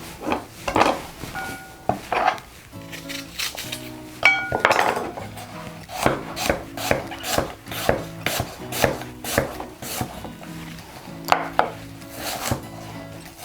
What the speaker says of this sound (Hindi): यहाँ सेब के भी हम छोटे छोटे पीसेस करेंगे।